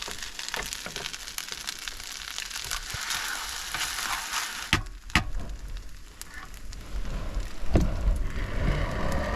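A splash of liquid goes into a sizzling frying pan: a loud, continuous crackle with sharp pops scattered throughout, surging to a louder burst partway through, close and without talk.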